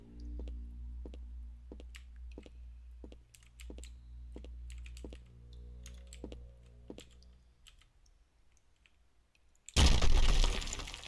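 Skeleton Hell video game: a Kraken enemy's emergence, with sharp clicking and cracking hits over a low rumble, then a sudden loud, startling burst of harsh noise near the end.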